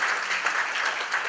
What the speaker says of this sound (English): Please, a warm round of applause for Cherie Castanares